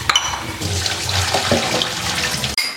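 Tap water runs steadily while elephant foot yam is washed in a kitchen sink, a continuous close splashing hiss that cuts off abruptly near the end.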